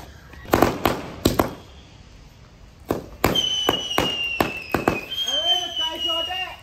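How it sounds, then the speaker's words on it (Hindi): Sharp firecracker pops and bangs in bursts, then a rising whistle with crackling bursts from a needle-type sky shot firework, with voices speaking in between. "ये स्काई शॉट है सुई वाले"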